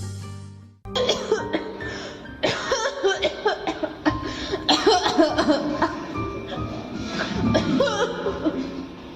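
Staged coughing in a school annual-day play about an aging mother, loud and repeated in bursts over stage music and room noise, with some laughter-like sounds mixed in.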